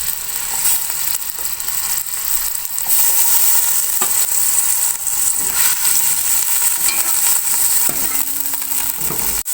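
Two sliced onions frying in a large pot of hot oil, a loud steady sizzle with occasional stirring scrapes and clinks running throughout.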